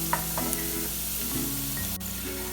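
Garlic fries in a pan with a steady close sizzle, and a few light scrapes and stirring touches break through it.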